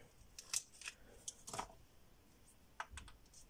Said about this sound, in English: So I'm using this tool to remove the plastic